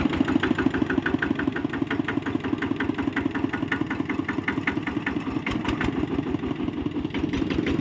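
An engine runs close by at a steady idle with a rapid, even chugging pulse and no clear rise in revs. Nobody speaks.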